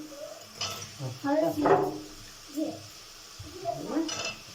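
Washed forks and dishes clink in a rural Egyptian kitchen, a few sharp scattered chinks mixed among close conversational voices that talk over most of the sound.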